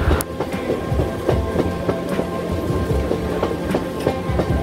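An EMU local train of the Eastern Railway's Howrah division pulls into Belur halt, its wheels beating a steady clickety-clack rhythm over the rails with a continuous rumble and hum, loud and close, with no voices.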